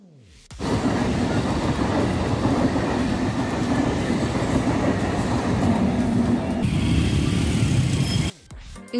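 A train rumbles steadily past a railway level crossing while the gate is down. The roar holds loud and even for about eight seconds, then cuts off abruptly.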